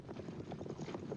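Horses' hooves clip-clopping steadily as a pair of horses pulls a two-man Egyptian war chariot, a dense, continuous patter of hoofbeats with no talk.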